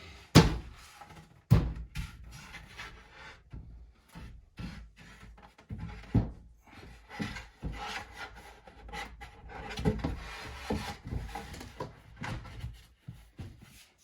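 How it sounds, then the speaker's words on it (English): A wooden baseboard is fitted into a Moducase DF120 PC case, with sharp knocks, thunks and scraping rubs of wood at close range, irregular and bursty, no talking. "once you put in the baseboard, which I will do now"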